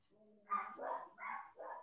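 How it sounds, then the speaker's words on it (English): Small puppies barking and yipping in a quick series of four short, fairly faint barks, with a low voice murmuring beforehand in an indoor setting. "Are you hearing the puppies?"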